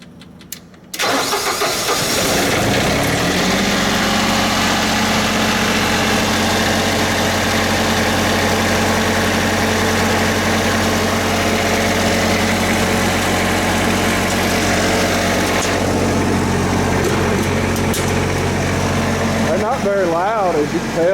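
A large welder generator engine cranks briefly and roars to life, then settles into a loud, steady idle at 1800 RPM with a deep, even drone.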